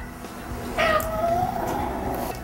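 A cat being examined at a vet clinic gives a drawn-out, tense growling cry, rising and sustained over a low background rumble of purring and handling noise. No one speaks.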